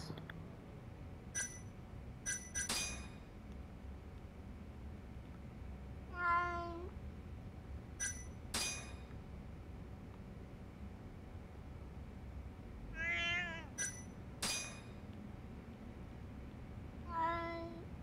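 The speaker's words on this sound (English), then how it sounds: "I will have a horde of cats." Cats in the video game Judgment: several short meows spread out at intervals, alongside repeated bright bell-like chimes over a quiet, hissy background, with no voices.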